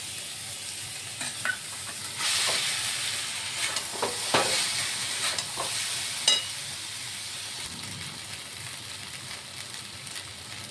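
Boiled pasta is stirred into tomato sauce in a hot pan for chicken pasta. A continuous sizzle runs under repeated spoon scrapes and clacks, with one louder stirring burst near the start and a sharp knock later.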